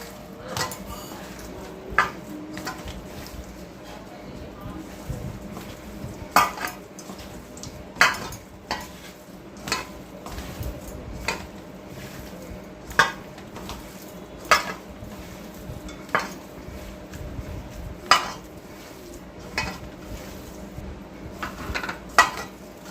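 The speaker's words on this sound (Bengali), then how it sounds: "এবারে এগুলোকে একসাথে আমি মাখবো" Chicken kebab mixture with bread crumbs is mixed by hand in a bowl, giving soft squelching and shuffling under a low background, punctuated by sharp clinks of the bowl at irregular intervals.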